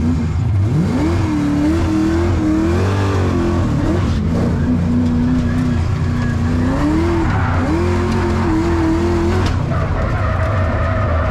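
An 800-horsepower drift car slides with a loud, sustained tire squeal that rises and wavers over a roaring engine, continuing for most of the stretch before fading near the end.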